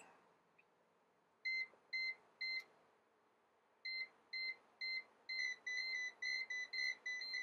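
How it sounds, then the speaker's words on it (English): A Kaiweets multimeter beeps on overload in short bursts, a few spaced beeps then a faster run of repeated high-pitched tones over a faint hum. "beeping overload"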